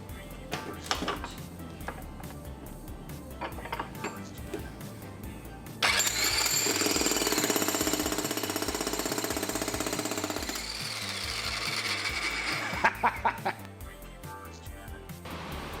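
A loud, rapid mechanical hammering of a Bosch power chisel hollowing out a pumpkin runs for several seconds, preceded and followed by scattered knocks and handling noises.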